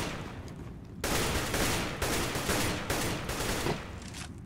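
Gunfire in the video game CS:GO, a quiet opening followed by a dense, sustained barrage of rapid shots in loud overlapping bursts with short breaks.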